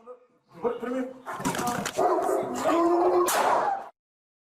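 In police news footage, a large dog of nearly 107 pounds yelps, whimpers and barks in a rising, strained run of cries, loud and close, mixed with talk.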